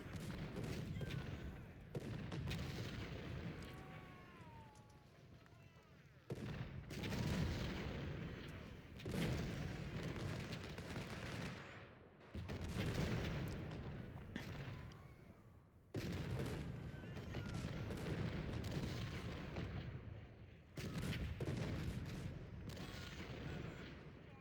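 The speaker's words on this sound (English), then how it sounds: "I don't mind too much enemy cannons firing on us." Enemy cannon fire in the Civil War strategy game Ultimate General: Civil War, heard as repeated booming volleys in bursts of several seconds separated by brief lulls, moderately loud throughout.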